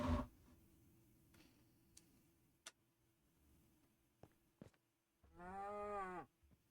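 A Minecraft cow lets out one drawn-out moo near the end, clear and fairly close, after a few faint clicks and quiet game sounds.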